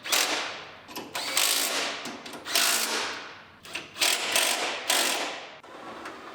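Ratchet clicking in repeated bursts while bolts are driven into a car fender and radiator support, each stroke a close, crisp run of pawl clicks with short pauses between.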